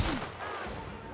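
A single gunshot from the video game The Outer Worlds on Nintendo Switch, a sharp close crack at the start followed by a short booming tail and lingering game ambience.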